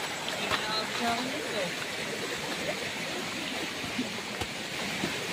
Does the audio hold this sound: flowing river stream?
yes